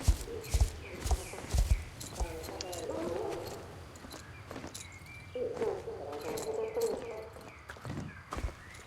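Horse hooves clip-clop in the Star Stable Online video game, a steady run of light hoofbeats at moderate volume with game ambience and bird calls, and a voice talking over part of it.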